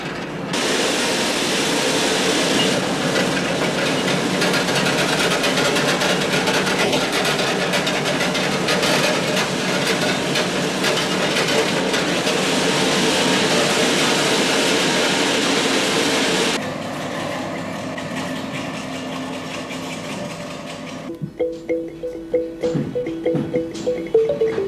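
A hank dyeing machine simmering dampened wool at a Donegal carpet factory gives off a loud, steady mechanical rumble and rushing noise that drops off midway, followed by quieter intermittent clanks and knocks.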